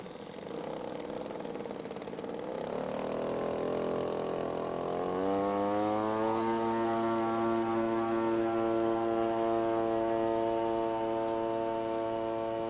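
A model seaplane's G62 engine runs continuously, its pitch rising as it revs up and then holding a steady, buzzing drone.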